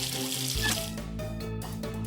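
Water is splashed and poured over a cape in a cartoon scene, a short watery gush heard over background music.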